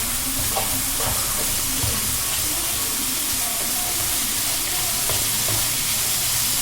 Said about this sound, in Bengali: এবার আমি পাস্তাগুলো একটু একটু করে ছোটো ছোটো করে কেটে নিচ্ছি খুন্তির সাহায্যে